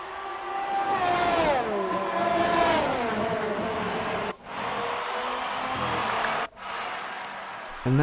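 F1 2019 video game race cars howl past at high revs, pitch bending downward as one car closes and overtakes, with sharp gear-shift dips in the steady engine scream.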